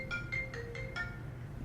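A phone rings with an incoming call during a casual podcast recording, giving five short repeated electronic chirps in a quick even rhythm over a steady background hum, then falling quiet.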